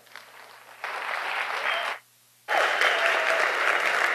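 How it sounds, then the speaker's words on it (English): An audience at a digital development event claps for the President of Malawi. The dense applause swells loudly, cuts off to near silence for a moment, then bursts back in full and strong. "The President of Malawi, Lazarus Chakwara, please give him another round of applause"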